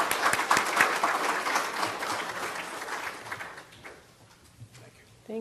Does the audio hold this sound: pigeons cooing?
no